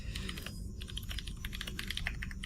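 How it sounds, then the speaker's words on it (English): Rapid clicking keystrokes from a mechanical keyboard, steady and close, a continuous patter of sharp clacks with no one talking. "you guys can hear my little mechanical keyboard click clack typing"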